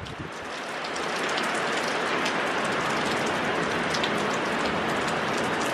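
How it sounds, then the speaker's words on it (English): Rain falls steadily on a summer day near horses and a tack shop outing, a loud, even wash of patter with no speech over it. "Wow, it's been so long since we saw rain."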